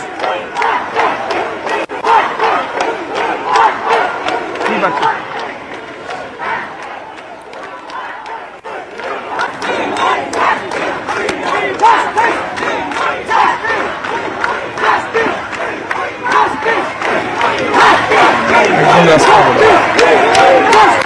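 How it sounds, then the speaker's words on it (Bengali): A large crowd of protesting TV technicians marches from a film studio in Kolkata, voices raised together in loud, continuous chanted slogans demanding justice, rising in intensity toward the end, with shouting and crowd noise throughout. "তারা প্রত্যেকে কিন্তু জাস্টিস চেয়ে স্লোগান দিচ্ছে"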